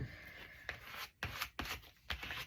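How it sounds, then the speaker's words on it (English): A small scraper tool rubs and scrapes across paper while gluing a no-sew book, in close, brisk strokes with sharp onsets, a few spaced passes over about two seconds. "What did I do with my little scraper tool"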